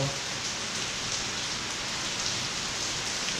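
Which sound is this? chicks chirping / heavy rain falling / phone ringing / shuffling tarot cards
heavy rain falling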